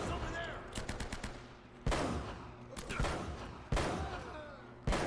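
Repeated gunshots in the Uncharted video game, sharp loud cracks and short bursts spaced a second or so apart over a steady background, with brief voices between.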